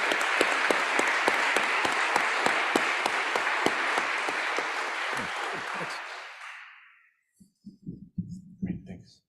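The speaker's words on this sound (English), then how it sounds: "Round of applause for our panelists." Applause from a conference audience for the panelists at an ocean floor exploration session, dense and loud with distinct close claps, fading away after about six seconds before brief talking resumes.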